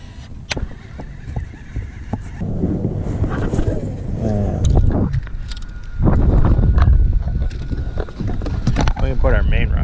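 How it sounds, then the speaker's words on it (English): Gusty wind rushes over a lake around a bass-fishing boat in spring, a steady low roar that swells and buffets the microphone, with muffled voices mixed in. "wind seems to be dying down"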